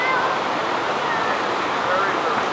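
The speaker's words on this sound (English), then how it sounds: "Beautiful stream." A stream flows close by near a waterfall, making a continuous, loud, even rush of water with no breaks and no voices.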